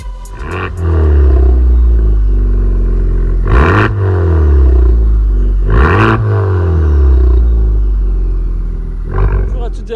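A Honda Civic Type R rated at 380 hp revs hard three times, each loud roaring climb falling back to a deep rumbling idle, close by and dominating.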